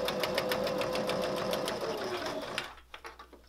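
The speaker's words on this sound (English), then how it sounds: "I'm just gonna stitch." A sewing machine sews a 5/8 inch seam through a layered doormat rug with quick, even needle strokes and a steady whir close by, then slows and stops near the end.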